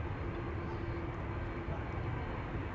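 Airbus A330 jet engines at an Amsterdam Schiphol departure, a faint, steady distant roar and rumble with a low hum, no distinct spool-up.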